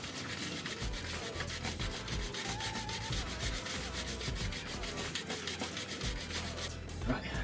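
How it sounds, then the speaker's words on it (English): Rhythmic back-and-forth scrubbing of a motorcycle chain with a chain-cleaning brush, steady and close, with a low rumble beneath the strokes for the whole stretch. "stick it in the chain and just give it a real good scrub."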